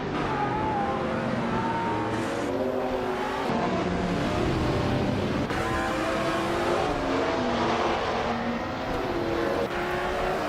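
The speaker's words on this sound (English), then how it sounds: "he's driving a classic 1999 Audi R8C in the LMP 900 class" A 1999 Audi R8C LMP900 prototype in a racing video game, its engine wailing through rising gear pulls with abrupt shift breaks, loud and constant, with other cars' engine tones blending in.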